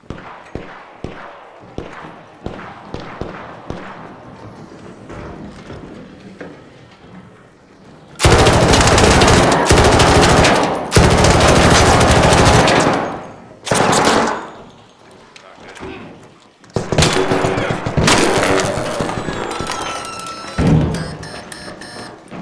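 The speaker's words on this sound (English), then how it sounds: "You could hear the gunshots that were going off, the direction where it was all coming from." Rapid bursts of gunfire in the third-person game ARC Raiders, starting as scattered distant shots, then erupting into loud sustained automatic fire with brief pauses between barrages.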